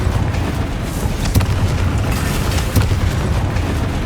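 Confringo blasting spell explosions in the video game Hogwarts Legacy, two sharp loud bursts over a dense rumbling battle bed, with no talking.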